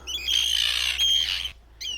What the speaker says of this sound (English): The birds are freaking out.